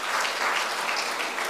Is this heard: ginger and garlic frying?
no